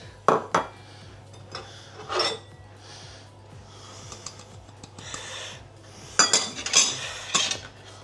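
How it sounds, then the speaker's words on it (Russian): Metal fork clinking and scraping in a bowl while stirring sifted flour with other dry ingredients, in short bursts of tapping and scratching separated by quieter pauses, close up with no talking. "Лучше всего перемешать вилочкой, вот таким образом"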